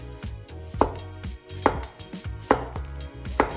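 A kitchen knife slices vegetables into long diagonal strips on a cutting board, giving four evenly spaced crisp chops against a low background hum, with no one speaking.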